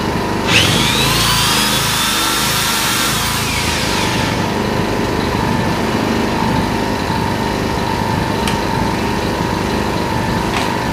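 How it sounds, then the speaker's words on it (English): A small Yamaha portable generator drones steadily and loudly throughout under load from a drill, with a brief rising whine near the start as RPMs increase and a faint click later, no voices. "Under load, it increases the actual RPMs a little bit to be able to generate more electricity for this drill."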